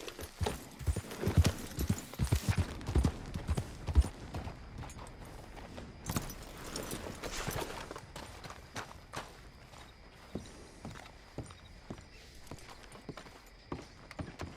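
Horse hooves in Red Dead Redemption 2 beat out a clear, close, rhythmic clip-clop that is loud at first and then settles into a lighter, steadier trot.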